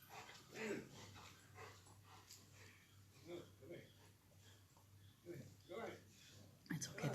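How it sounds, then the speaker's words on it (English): A dog outside gives soft, faint whimpers and yips in a quiet room, with a low steady hum beneath and occasional faint voices. "There's another dog out there now."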